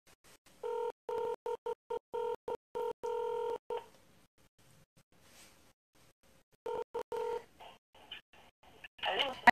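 A telephone being dialed to call a listener on a radio show: two bursts of rapid DTMF keypad tones with brief gaps, followed by ringing-line beeps, with faint talk in between.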